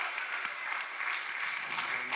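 An audience at a Texas school assembly applauds to welcome a speaker from Valley Forge Military College. The clapping is faint and distant, dense and even, with a faint voice underneath.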